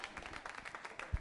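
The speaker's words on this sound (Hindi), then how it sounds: "तालियां जोरों से बजनी चाहिए" Applause from an audience at a Diwali quiz show, a quiet, steady wash of many hands clapping with one louder clap near the end.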